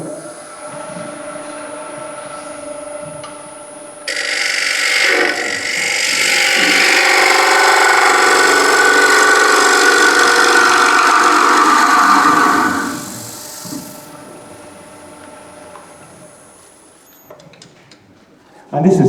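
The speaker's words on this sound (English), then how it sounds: "So I'll continue hollowing out this piece." A wood lathe hollows out a chestnut bowl with a push cut: a steady motor hum, then a loud, continuous rasping cut swells for several seconds before easing back to the quieter spinning hum.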